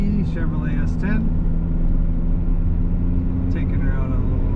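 A 2003 Chevrolet S10 pickup truck drives along with a steady low engine drone and road rumble from inside the cab, while someone talks briefly over it.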